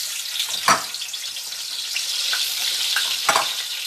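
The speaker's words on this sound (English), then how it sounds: "once you get the sizzle, once you get the bubble, you can go ahead and add your," Onions hit hot oil with a loud, close, steady sizzle and bubbling hiss, broken by a couple of sharper crackles and scraping stirs, with no talking.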